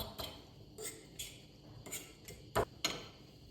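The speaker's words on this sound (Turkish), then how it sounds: "zeytinyağı çırpıyorum" Olive oil being whisked into yogurt in a bowl for baked cauliflower gives a run of sharp, irregular clinks and taps, a few louder strikes near the end, close and fairly quiet with no talking.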